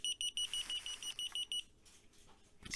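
An ESKY KF06A key finder beeps from inside a bag in a quiet room, a muffled run of quick, evenly spaced high-pitched chirps that stops after about a second and a half.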